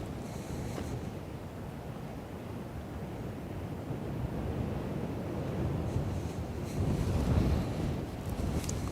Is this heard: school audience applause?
no